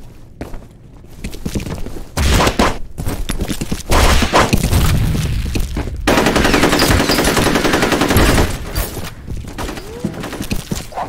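Gunfire in the video game F.E.A.R. Combat, with loud, close bursts of automatic fire and single shots, including a long sustained burst, over a noisy multiplayer match.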